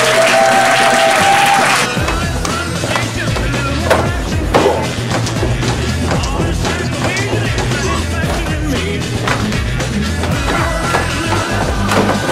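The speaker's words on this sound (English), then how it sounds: "I'd like to hear a big round of applause for Grandmaster GM Brassard!" Applause greets a grandmaster at a Shaolin Kempo Karate seminar, a loud burst of clapping that drops away after about two seconds into a busy room of thumps, knocks and shuffling.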